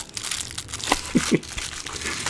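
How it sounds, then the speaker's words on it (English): Tissue paper from toy packaging crinkles close up in soft, irregular rustles with a few sharper crackles, alone without talking. "this is like a tissue paper. You can hear it crinkle."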